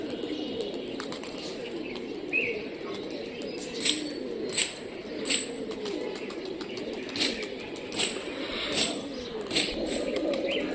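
Pigeons in Rajshahi, Bangladesh coo softly in low, throaty murmurs while sharper chirps and wing flutters pop up at intervals over a steady outdoor background.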